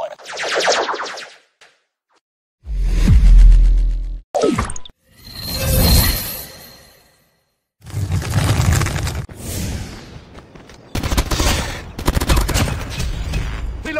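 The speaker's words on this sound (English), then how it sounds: "Sentry gun ready for deployment." Automatic sentry gun fire in Call of Duty: Mobile multiplayer, bursts of rapid gunshots with explosive booms and whooshes, loud and close, separated by short silent gaps.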